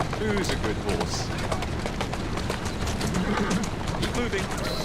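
Horse whinnies and clip-clopping hooves from Assassin's Creed Syndicate, continuous and fairly close over steady game noise, with voices present.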